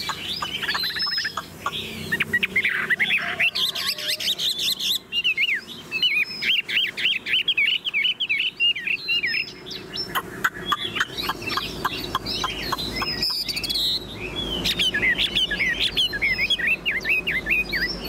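A tame Chinese hwamei songbird sings loudly and continuously up close, pouring out rapid varied trills, whistled phrases and repeated chirping notes with almost no pause.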